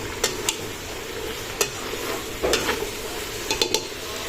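Hot dogs sautéing in a pan, with a soft steady sizzle broken by several sharp, close scrapes and taps of a utensil against the pan.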